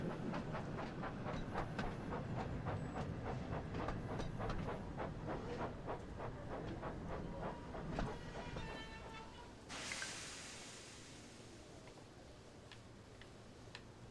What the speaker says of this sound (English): I'm gonna start stepping on the brakes here because we're pulling into the station